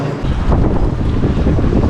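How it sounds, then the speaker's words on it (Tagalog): Strong wind roars and buffets the microphone continuously outdoors in Edmonton, Alberta, a loud, rumbling gust noise with no voices. "Lakas ng hangin."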